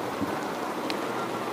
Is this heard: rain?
yes